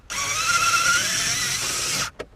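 A power drill driving a screw during radio removal in a 2012 Ram 1500 whines at high pitch for about two seconds, then cuts off, followed by a brief short burst.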